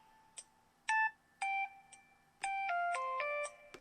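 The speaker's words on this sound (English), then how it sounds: "I think these are just standard like ring sounds." A Disney-branded mobile phone ringtone of bright electronic beeps, a few spaced tones then a quick rising run of notes, clear and moderately quiet.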